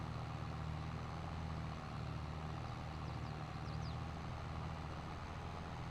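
A tractor engine in the Farming Simulator 22 video game runs at a steady, continuous low drone throughout, with no talking over it.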